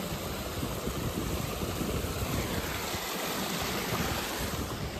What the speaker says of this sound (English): Just on the water wheel, with this lovely little waterfall, and this tiny bridge that we've decided to walk across.